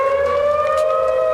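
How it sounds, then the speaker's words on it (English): A steady tornado warning siren wails on one sustained pitch, loud and close, with no voices over it. "Tornado sirens, yeah."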